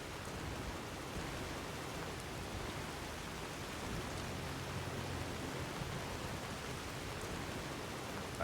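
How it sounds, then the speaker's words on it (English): Rain falls steadily in Skyrim as a soft, even hiss throughout, faint and uninterrupted with no voices. "Why has it gotta rain?"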